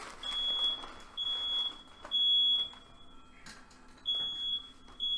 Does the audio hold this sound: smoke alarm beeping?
yes